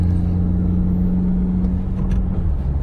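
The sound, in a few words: car engine driving in third gear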